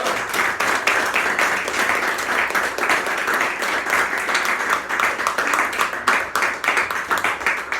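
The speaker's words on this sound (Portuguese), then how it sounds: "Você pode aplaudir o Senhor uma última vez agora?" A church congregation applauds during a campaign worship service, dense sustained clapping from many hands filling the room at steady strength.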